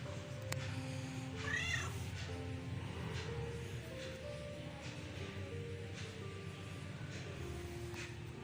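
A cat gives a short, clear meow early on, then quieter faint meows follow over a low hum of background noise.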